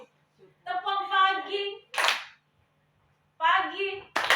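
A group of adults takes part in a rhythmic clapping game in a classroom-style session. Bursts of chanted singing alternate with two sharp, loud clap hits, one in the middle and one at the end.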